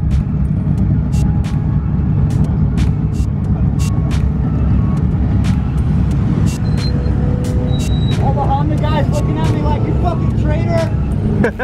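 A truck on a drag strip makes a loud, steady engine roar with dense mechanical noise throughout, nearby and continuous, with scattered clicks and a brief higher whine near the end.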